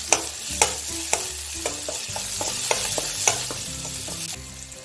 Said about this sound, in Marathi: बारीक कट केलेल्या 3 ते 4 मिरच्या आहेत, हे आता आपण तळून घेऊया।